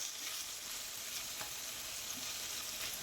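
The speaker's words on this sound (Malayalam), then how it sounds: "എല്ലാം ഇട്ട് കൊടുത്ത് ഒന്ന് ഇളക്കി കൊടുക്കാം." Carrot and potato fry being stirred in a hot pan, a steady close sizzle with faint scraping strokes running through it, no voices.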